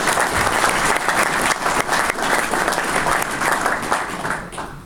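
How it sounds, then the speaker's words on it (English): An audience at an evening presentation gives a quick, dense round of applause, many hands clapping together at a steady level before tapering off at the end. "Could we just give Brian a quick round of applause for putting on a great presentation?"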